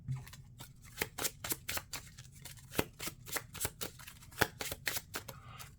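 A deck of Marvel Champions game cards is shuffled by hand close up, producing quick, irregular riffling snaps and soft clicks in short bursts with no talking.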